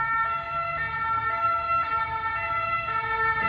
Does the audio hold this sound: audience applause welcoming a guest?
no